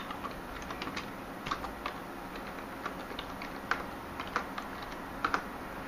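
Typing on a computer keyboard late at night while installing Minix 1.7.5 in VirtualBox, a steady run of soft clicking keystrokes with irregular, sharper taps, close and alone with no speech.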